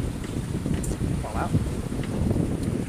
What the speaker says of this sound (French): Le vent, toujours même puissance, 16 nœuds, 16-17 nœuds.